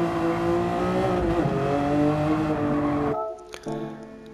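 A Jaguar XJ13 engine in a racing video game at Interlagos revs hard under acceleration, a loud, steady harmonic roar that climbs in pitch, then cuts off sharply near the end, leaving a brief quieter tail.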